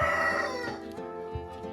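Chickens in a coop call up close, a loud drawn-out crowing cry followed by softer clucks and short calls, with no talking.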